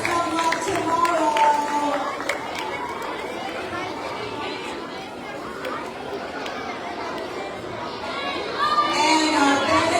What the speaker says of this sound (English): another round of applause as they take their seats